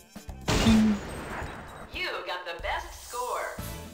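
Gunfire in the Silent Scope sniper shooting game: one sharp burst of shots up front, followed by game sound effects and someone talking over the rest.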